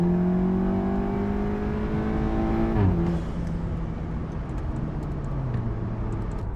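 A 2019 Volkswagen Golf R accelerates hard, engine pitch climbing through a gear before a quick shift drops it, then pulling on with a loud, steady drone.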